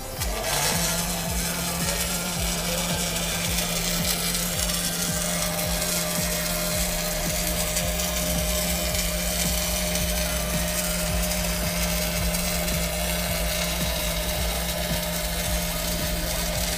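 Steady, continuous hum and sizzle of a robot lap welding 3.2 mm mild steel at 300 amps in an industrial setting, even and unbroken from start to finish.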